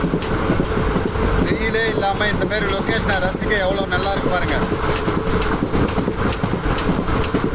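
A fast-moving train between Tiruvannamalai and Vellore rumbles and rattles loudly and continuously, with someone talking over the noise.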